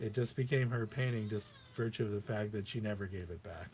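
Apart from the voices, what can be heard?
cat meowing in the background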